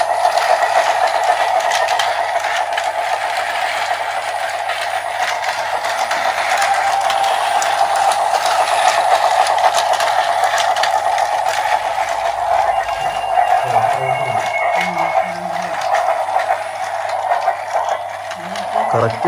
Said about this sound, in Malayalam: കറക്റ്റ് ട്രെയിനിൻ്റെ ശബ്ദമാണ് കേട്ടോ.